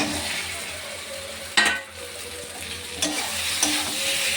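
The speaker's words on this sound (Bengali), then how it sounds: "এবার আমি এতে এই ভেজে রাখা আলুগুলো দিয়ে দেবো।" Pre-fried chandramukhi potatoes tumble into spice masala bubbling in oil for a pointed gourd and prawn curry, with a steady, close sizzle and a few sharper scrapes and clatters as the spoon stirs them through.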